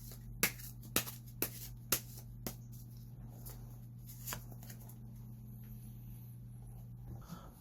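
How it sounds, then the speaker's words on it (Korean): Tarot cards being shuffled to draw an advice card: about seven crisp papery snaps, quick at first and then sparser, close by over a steady low hum in a quiet room. "마지막으로 조언 카드를 한 장 뽑아 보겠습니다"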